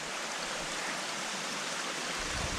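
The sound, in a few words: mountain waterfall stream on Mt. Hood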